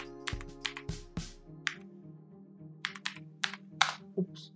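Keys tapped on a computer keyboard while entering a .NET terminal command in VS Code, a short irregular burst of close, crisp clicks with small pauses between strokes and no voice.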